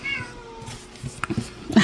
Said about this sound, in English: one of my cats, Jolene, crying at me